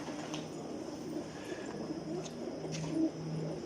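Pigeons in a loft coo in low, repeated soft calls, fairly close, over a faint steady background hum.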